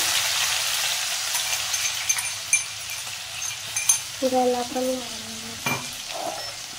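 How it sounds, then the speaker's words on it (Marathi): Ginger garlic paste sizzling in hot oil with cumin seeds, a steady broad frying hiss with a few small clatters and pops, close and alone without talk. "जिरे झाले. अद्रक लसूणची पेस्ट टाकायची."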